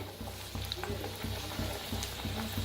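Chakli deep-frying in a pan of oil gives a steady, close sizzle with evenly spaced soft knocks repeating about three times a second, moderately quiet, with no voices.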